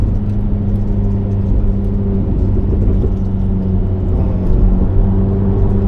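A 2026 McLaren 750S driven on Tokyo streets in track engine mode gives a loud, steady engine drone with a deep rumble that holds for the whole stretch and builds slightly near the end.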